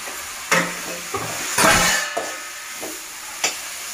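Okra and brinjal curry being stirred while frying in a pan, a loud close hiss and sizzle with several sharp scrapes and clatters of a spoon against the pan, one longer burst of sizzling in the middle, no voices.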